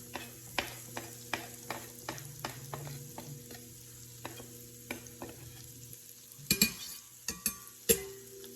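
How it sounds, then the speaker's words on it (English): Chopped onions going into melted butter in a pan over medium-high heat, a soft steady sizzle under scattered clicks and scrapes of a utensil stirring, with a few louder clatters near the end. "I chopped up my onions and my garlic. I'm gonna get those sauteing here."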